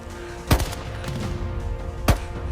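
Two sharp, loud gunshots from soldiers' weapons crack about a second and a half apart during a tactical assault drill, each with a short echoing tail over a steady background hum.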